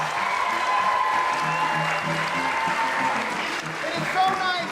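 Applause and scattered cheers from a school audience in McCarthy Auditorium greet students on stage at a music concert, a continuous wash of clapping with voices rising through it.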